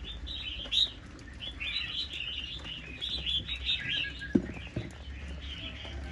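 A Chinese hwamei songbird sings a continuous, lively run of bright warbling phrases close by, with a brief wing flutter or cage knock partway through and no talking.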